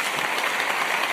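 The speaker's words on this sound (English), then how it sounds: "round of applause for that" A dense, steady wash of clapping from a crowd, continuous and fairly loud throughout with no voices on top.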